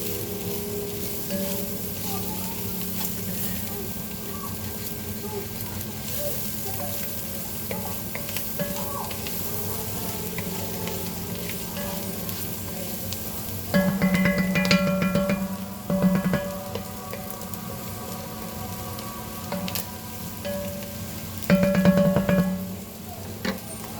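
Bolognese ingredients frying and being stirred in a pan over turned-down heat, a steady soft sizzle throughout with louder bursts of scraping and stirring near the middle and end.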